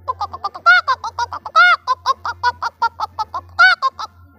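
A male bird calls repeatedly in a steady run of short, bright notes, a few longer louder calls standing out, close and clear with a low hum beneath.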